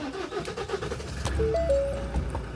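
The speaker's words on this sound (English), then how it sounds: "This should just start in one click now." A Ford Transit EcoBlue diesel van being cranked over to start after fuel system work, with a steady, loud mechanical whir and a low rumble lasting a couple of seconds and a tonal whine rising midway.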